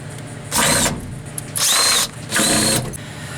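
A power drill whirs in three short bursts, each under a second, as it tries to back out stubborn screws on a 5 x 8 trailer, with quiet gaps between.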